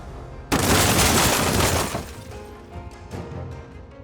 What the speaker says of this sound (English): With a big explosion